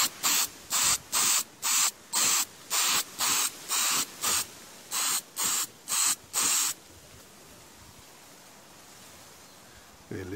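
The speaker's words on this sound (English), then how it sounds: "spray that area from here till there with the transparent one" Clear lacquer spray painted onto a section of a Farmall tractor, about a dozen short, even hissing bursts in steady rhythm, close and crisp, then quiet.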